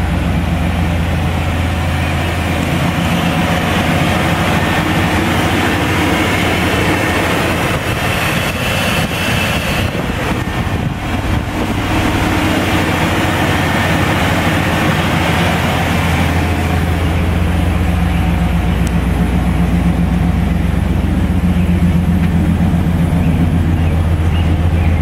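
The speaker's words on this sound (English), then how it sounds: "I generally ride my bike. So I thought I'd pull it out, start it up, let it run for a while" A motorcycle engine idles steadily after being started, a continuous low rumble running loud and close the whole time with some brief rougher revving in the middle.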